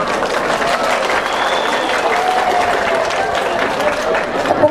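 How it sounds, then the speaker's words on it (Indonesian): A crowd at an Islamic religious gathering in Cilacap claps loudly and continuously, a steady wash of many hands with faint voices mixed in underneath. "Tepuk tangan maksudnya apa?"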